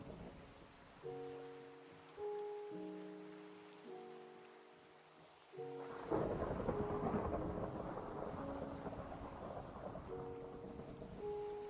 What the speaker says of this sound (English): Oh hey, it's no longer thundering.